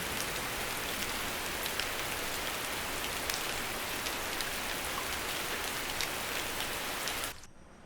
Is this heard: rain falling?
yes